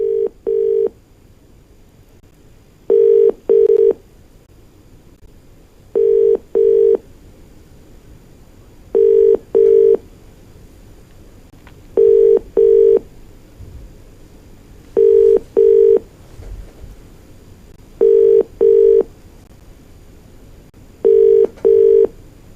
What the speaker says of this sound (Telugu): మళ్ళీ మనం కాల్ కనెక్ట్ చేస్తున్నాం